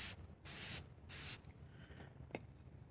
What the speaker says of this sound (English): I just spray back and forth.